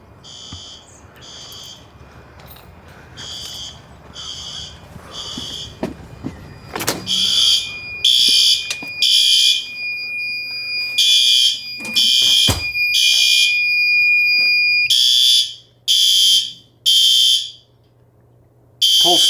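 Fire alarm horn blasting in repeated loud bursts during a monthly system test alongside a generator test, starting after a sharp transient and steady hum, with brief gaps between the pulses.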